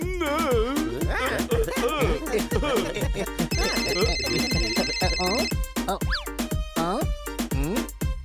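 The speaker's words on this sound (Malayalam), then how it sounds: "ഇൻസ്പെക്ടർ പാണ്ട, താങ്കൾ ആരോ ഫോണിൽ വിളിക്കുന്നുണ്ട്" A telephone rings in an animated children's cartoon. A bright electronic ring sounds for about two seconds in the middle, amid lively cartoon voices and background effects.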